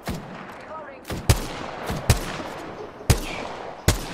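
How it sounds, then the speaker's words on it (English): Gunfire in the battle royale game Apex Legends: five sharp, widely spaced shots at about one-second intervals, loud and punchy over a low hum of ambient game noise. "Fuck's up there shooting at us."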